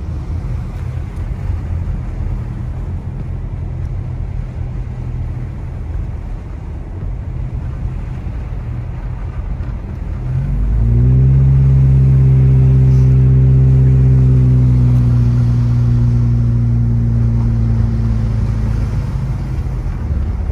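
A car driving on snowy mountain roads near Big Bear Valley, with a steady loud low engine and road rumble that rises into a stronger droning engine tone partway through.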